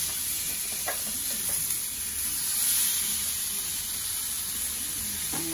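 Food sizzling on a hot grill pan on a stove, a loud, steady hiss with light stirring scrapes, close by and uninterrupted by speech.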